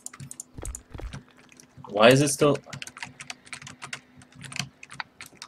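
A computer keyboard clatters in rapid, uneven bursts of close, crisp key taps while someone talks briefly over it.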